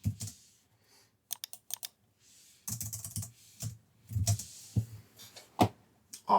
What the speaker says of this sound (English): Oh, there's some bad typing there.